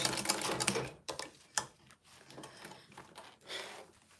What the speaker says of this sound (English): when I get to the end, I'm going to back stitch